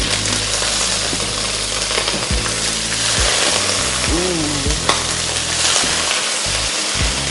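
Prawns thrown into a hot pan with too much water, frying and splattering in a loud, steady sizzle with a few sharp pops.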